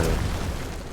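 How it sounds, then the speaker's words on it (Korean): An explosion in the action game Diablo Immortal gives a dense, loud, rumbling boom that fills the full second with broadband roar and no quiet gap. "폭발."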